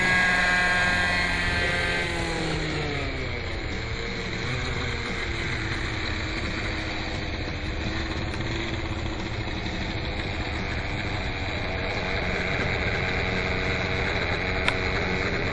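A Raptor V1 RC helicopter running, its engine and spinning rotor blades making a loud, steady droning whir close by for the whole stretch.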